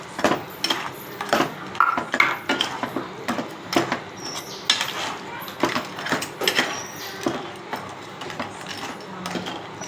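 Thick ground coconut-onion paste drops into a pan of red-cooked crab curry, giving soft wet splats and scrapes with frequent clinks of a metal spoon against the pan, close and busy throughout.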